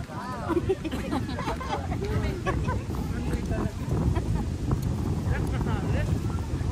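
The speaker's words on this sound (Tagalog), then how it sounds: "lakas ng hangin" Strong wind buffets the microphone with a constant low roar at Beaver Lake during a picnic, while several people chatter nearby throughout.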